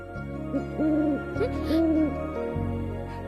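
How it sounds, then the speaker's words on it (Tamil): An owl hoots several times in a slow, wavering rhythm, fairly close and clear over a quiet low hum. "ஆந்த சத்தம்."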